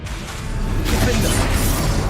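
A Confringo spell explosion in Hogwarts Legacy lands as a dull boom midway, swelling into a broad rushing roar after a softer whooshing lead-in, with a voice faintly underneath.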